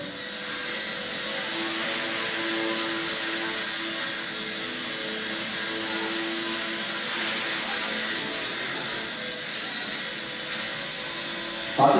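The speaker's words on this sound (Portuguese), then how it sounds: "Então, um helicóptero muito bom aí pra quem tá começando" A K127 four-channel remote control helicopter with altitude hold flies nearby, its small motor and rotor giving a steady, high-pitched continuous whine at an even level throughout, with no talk.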